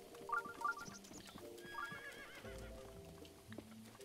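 A horse in The Legend of Zelda: Breath of the Wild whinnies several times while its hooves clip-clop steadily, with layered game music throughout and no talking.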